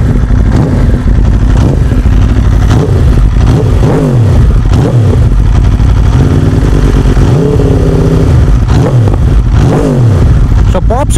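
An Aprilia RSV4 1100 Factory superbike is revved repeatedly, loud close throttle blips rising and falling in pitch, several sharp rev cycles with exhaust crackle between them.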